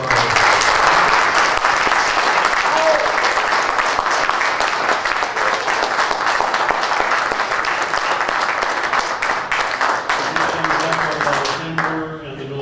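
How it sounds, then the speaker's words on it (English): An audience at a school district candidates forum claps in sustained, dense applause that stays strong for several seconds, then thins out and fades near the end. "Let's have a round of applause"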